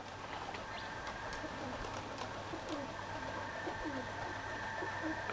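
A pigeon coos in soft, repeated low calls against a steady, faint background hum and a windy outdoor hiss, with a few thin chirps from other birds mixed in.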